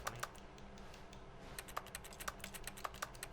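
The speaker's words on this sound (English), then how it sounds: "Sounds like I'm clicking." Mouse or key clicks in The Stanley Parable, a run of sharp separate clicks in irregular bursts over a low steady hum, close and fairly quiet, with no talking.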